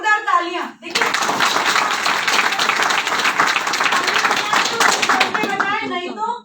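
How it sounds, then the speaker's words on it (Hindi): Loud, dense clapping from an audience at a business seminar, a sustained burst of applause lasting several seconds, with a voice speaking briefly before and after it. "तो एक बार जोरदार तालियां देखिए"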